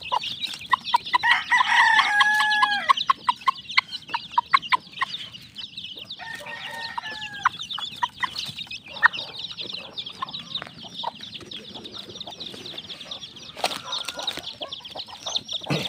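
A hen and her newly hatched chicks cluck and peep busily at feeding time on a farm. A rooster crows nearby, and steady clucking carries on throughout.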